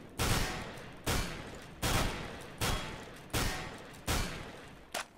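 A FAMAS rifle fires in CS:GO in six sharp, loud bursts spaced about three-quarters of a second apart, each a hard crack with a short decaying tail, plus one clipped final shot, with no talking.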